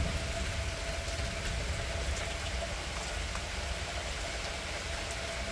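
Heavy rain from a thunderstorm pours down in a dense, steady hiss, loud and close, with scattered drops pattering on a surface and no voices.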